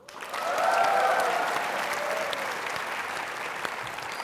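Studio audience of the Mata Najwa talk show applauds a guest, an Indonesian comedy figure from Warkop, with sustained dense clapping that swells in the first second and then holds steady, with no talk over it.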